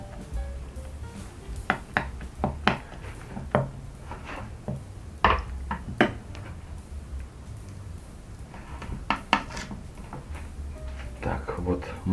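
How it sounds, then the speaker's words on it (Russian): A spoon stirs a thick chili spice paste with garlic in a pot, making irregular light scraping knocks and taps against the pot that sometimes cluster together, over a low background hum. "Все тщательно перемешиваем."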